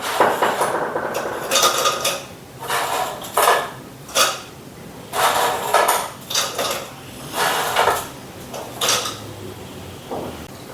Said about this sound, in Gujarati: હવે આપણે આ બધી જ બિસ્કિટને આ મિક્સરની જારમાં લઈ લઈશું આ રીતે